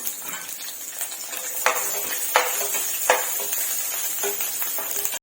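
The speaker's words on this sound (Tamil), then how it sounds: "இது நல்லா வதங்கட்டும்." Chopped onions sautéing in a pan for Pallipalayam chicken, a steady bright sizzle with a few sharp scraping stirs of a utensil against the pan, close and continuous.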